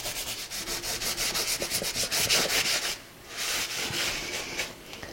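Drawing-gum masking fluid is rubbed off watercolour paper in quick repeated strokes, a dry scratchy rubbing that runs steadily for a few seconds, pauses briefly, then resumes more softly, close and alone.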